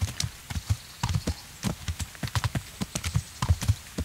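Horse hooves clip-clopping in Kingdom Come Deliverance, a steady close walking rhythm of many sharp hoof strikes over several seconds, heard alone without speech.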